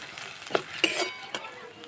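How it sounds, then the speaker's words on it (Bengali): Onion, garlic and ginger frying in a pan for bread pakora filling, a soft, quiet sizzle punctuated by a few sharp clinks and scrapes of a stirring spoon. "এইবারে সব ভালো করে ভেজে নেব।"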